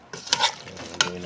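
Mixed vegetables sauté in a hot pan, a brief close burst of sizzling with two quick scraping stirs of a utensil.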